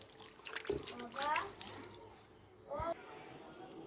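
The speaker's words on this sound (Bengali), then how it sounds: "গাছের পাতায় এই ঠান্ডা জল সুন্দর করে ছিটিয়ে গাছটাকে ভিজিয়ে দেব" Cold water is sprayed over the leaves of a potted lychee tree, making a soft continuous splashing hiss with a few louder splashes, and a voice speaks over it.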